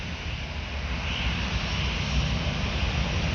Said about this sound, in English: Taxiing towards the runway for repositioning.